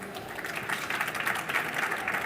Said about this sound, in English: A big applause for all of here,